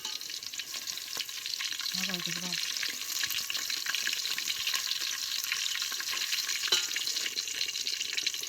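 Paneer and soya chunks frying in a pan as they are turned over, a soft continuous sizzle with occasional light clinks, quiet and close, with a brief hum in the background.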